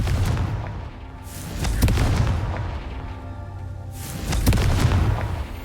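Two Confringo fire spells burst in Hogwarts Legacy, each a booming explosive blast with a rumbling tail, spaced a few seconds apart over low background noise.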